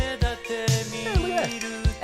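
A sharp, hollow synthetic clave click ticks in a rhythmic pattern over a bright synth melody with sliding tones.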